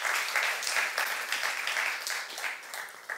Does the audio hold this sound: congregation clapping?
yes